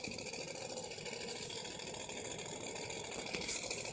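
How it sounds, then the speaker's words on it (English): A motor idles steadily as it cools down, a faint, even buzzing hum with a gentle rattle and no breaks for the whole stretch. "Now my engine's cooled down."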